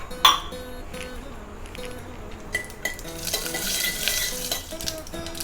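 Mustard seeds, urad dal, fenugreek and asafoetida fry in hot oil with a constant sizzle and crackle, joined by metal clinks and stirring scrapes against the pan.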